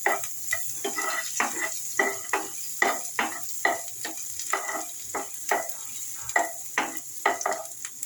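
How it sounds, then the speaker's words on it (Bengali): Chopped garlic sizzles in hot oil in a pan while a utensil stirs it in steady, evenly spaced scraping strokes, close up, under a constant frying hiss and with no talking. "রসুন কুচিটা একটু নাড়িয়ে নিই"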